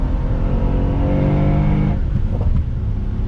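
A 2019 Mercedes-AMG SL63 Roadster's exhaust drones loudly under a downshift to third, with a few faint crackles and pops near the end, heard up close from inside the moving car.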